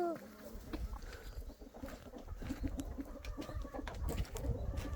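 Free-range chickens cluck and peck busily at a snack of broken rice from a government grain subsidy, a dense farmyard bustle of near and far fowl calls with a person talking over it.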